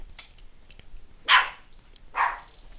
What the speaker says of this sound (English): Sorry, I have my dog in my room today.